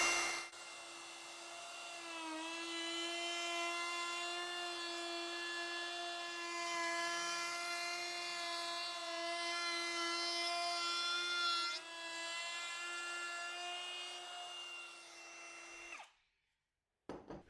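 A router fitted with a chamfer bit cutting scrap wood, a steady high-pitched whine with a rough grinding edge as the bit moves along the board for about sixteen seconds, close and loud, then the motor is switched off.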